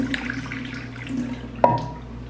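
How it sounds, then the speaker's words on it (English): Water poured out into a kitchen sink, a fairly quiet steady wash of running liquid with a sharper splash near the end, set against low background hum. "Pour the water out."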